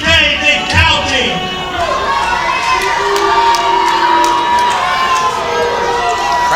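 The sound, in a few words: unhappy wrestling crowd reacting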